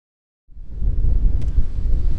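Cold wind gusts roar steadily across the microphone at the Fort Churchill site, a loud low buffeting rumble that starts abruptly and keeps blowing with no voices.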